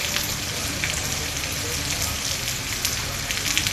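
Heavy monsoon downpour at an office compound in Brahmanbaria, Bangladesh, a dense steady roar of rain hissing on surfaces throughout, loud and unbroken.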